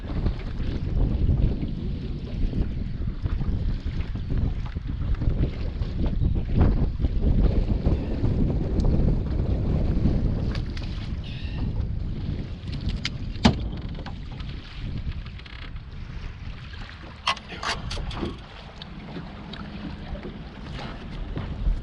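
Strong wind buffets the microphone on a lake while fishing from a bass boat, a loud continuous rumble with water lapping against the hull, easing somewhat toward the end.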